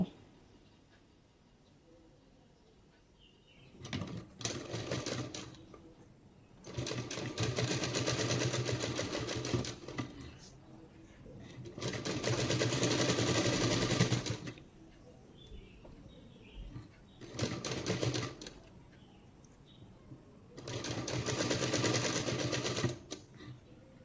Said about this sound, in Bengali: আমি ধার বরাবর 3 দিকে আমি একটু একটু করে মুড়ে সেলাই করে নেব।